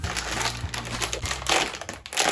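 Crinkly plastic rustling and crackling as a Japanese gummy candy kit packet is torn open, close and continuous with a few sharper tearing bursts.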